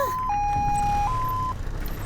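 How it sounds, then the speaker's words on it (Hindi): An ambulance siren sounds in a dramatic scene from an action movie, a clear two-tone wail stepping between pitches before cutting off, with low background rumble. "एम्बुलेंस भी आ गई।"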